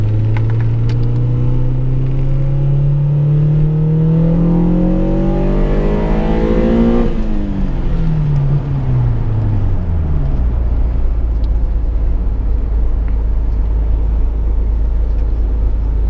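A 1998 Acura Integra GSR revs hard from inside the cabin, engine pitch climbing steadily under a long pull, then dropping sharply on an upshift and settling into a deep low rumble.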